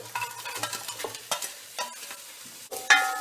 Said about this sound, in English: remove from the pan and pop them on a plate, and then add your onions,